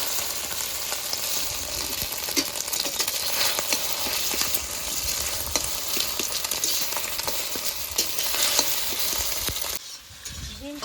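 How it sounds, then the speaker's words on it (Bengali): An egg seasoned with salt and turmeric fries in a hot pan, giving a steady, close sizzle with light stirring scrapes that continues for about ten seconds before cutting off near the end. "ডিমটা ভেজে নেব"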